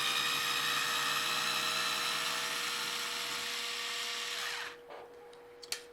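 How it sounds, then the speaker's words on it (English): Tight screws backed out of a hard plastic servo mount, probably with a power driver, giving a steady high whine that runs for several seconds before cutting out, followed by a couple of faint clicks. "the plastic is really hard in the front, so it sounds like you're unscrewing these out of a lock nut"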